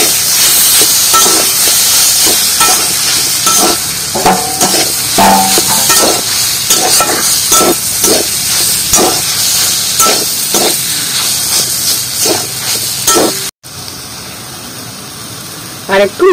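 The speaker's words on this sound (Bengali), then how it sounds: "আর পেঁয়াজ আর কলা সিদ্ধ ভালো করে নাড়িয়ে নেব" Onion and boiled green banana are stirred in a hot frying pan for a banana kebab. A steady sizzling hiss runs under repeated scraping spoon strokes, then quietens near the end.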